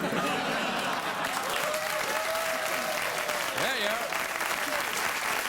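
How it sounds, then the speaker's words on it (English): A late-night talk show studio audience applauds steadily while someone speaks over the clapping. "I don't know why you're applauding."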